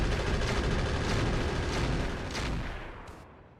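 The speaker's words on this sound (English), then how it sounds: "Alright, Urban Mech shooting at the Copperhead." Mech weapons fire in the BattleTech game Roguetech as an Urban Mech shoots at a Copperhead tank, a loud rumbling barrage of booming shots that slowly fades near the end.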